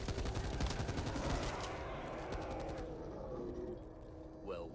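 Guns fire in the zombie shooter game Back 4 Blood, a dense burst of rapid shots and clattering fire that thins out after a couple of seconds, leaving fainter scattered effects.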